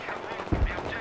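Gunfire in the video game Battlefield 3 multiplayer: a burst of automatic shots with a heavier thump midway, moderately loud over a busy background of game noise.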